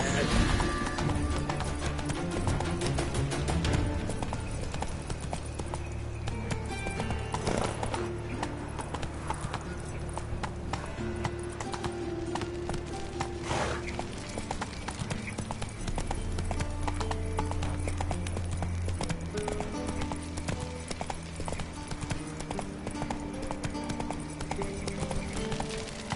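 Hooves of Roach, a horse in a PS4 video game, clip-clop in a fast, continuous gallop over low sustained game tones.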